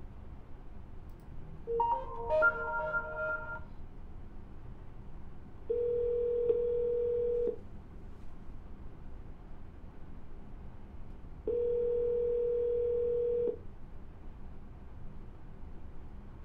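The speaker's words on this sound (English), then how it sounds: "All right, now we're dialing." Phone call being dialed: a brief burst of dialing tones, then two long, even ringback tones separated by a pause, heard down a telephone line.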